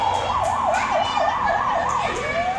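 A fire engine siren wails loud and close in a fast, steady up-and-down warble, then slides into a falling sweep near the end.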